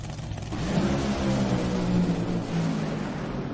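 NHRA drag racing cars at a race-day semifinal roar down the strip, a broad, rumbling engine growl that swells and holds at moderate level, heard from some distance.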